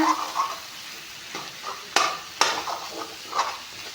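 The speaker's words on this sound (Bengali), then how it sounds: "এয়া চব মছলাখিনি দি অলপমান ভাজি ল'লোঁ এতিয়া" Spices fry in a pan for mutton curry with a low, continuous sizzle, broken by a few sharp clinks and scrapes of a spoon against the pan.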